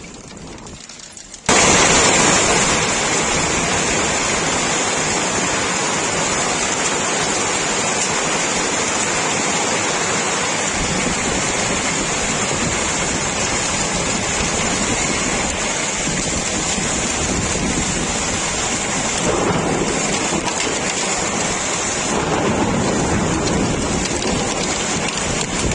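Heavy, steady rain with hail pours down continuously in Mexico City, dense and loud, with low rumbles of thunder rolling beneath it.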